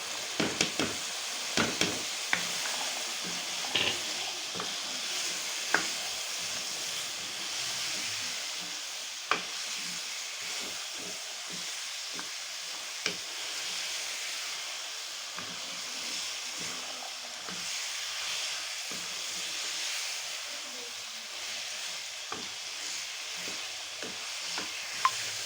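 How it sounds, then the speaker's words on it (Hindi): Potato, peas and chicken curry fry in a pan, a soft continuous sizzle and hiss with faint occasional clicks of a stirring spoon, fairly quiet and steady throughout with no talking. "सब्जी को 2 मिनट हम भूनेंगे"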